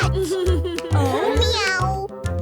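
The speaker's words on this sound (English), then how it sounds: "Oh, it's a cat." A cartoon cat meows in a high, sing-song voice over a bouncy children's song with a steady thumping beat, the meow rising and falling in pitch near the middle.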